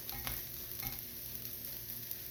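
Beef lo mein sauce thickened with cornstarch frying and being stirred in a hot pan, a steady faint sizzle with a few soft scrapes, no voices.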